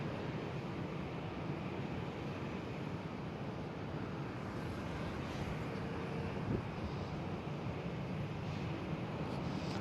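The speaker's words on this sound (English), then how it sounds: "Air France taxiing by." An Air France airliner taxis at Schiphol airport in Amsterdam, its engines a continuous broadband roar that holds steady throughout, with some wind noise blowing across the microphone.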